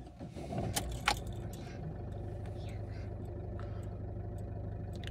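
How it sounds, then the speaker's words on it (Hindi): A Ford Figo diesel car engine cranks and starts with a brief clatter, then settles into a steady low diesel idle heard from inside or near the car. "let me start the engine"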